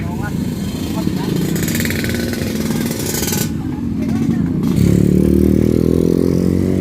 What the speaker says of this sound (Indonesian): lihat motornya itu loh, begitu sangat banyak banget ya